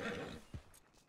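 A horse in the western roleplay game RedM lets out a short whinny partway through, close and fairly soft, over a low game background. The neigh is only a brief burst.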